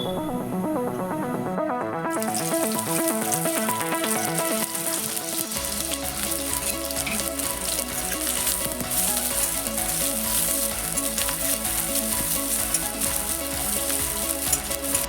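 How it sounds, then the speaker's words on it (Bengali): Chopped onions frying in hot mustard oil, a loud continuous crackling sizzle that swells after a brief quieter start and keeps going steadily. "এই পেঁয়াজটা ভেজে বেরেস্তা বানিয়ে নেব।"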